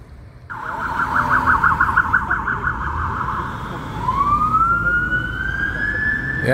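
An emergency vehicle siren in Montreal wails loudly in a fast warbling yelp, then shifts into a slow rising wail, sounding fairly close over steady street noise.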